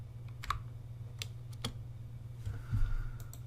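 Someone typing on a computer keyboard, scattered sharp key clicks in small bursts over a low steady hum, no talking.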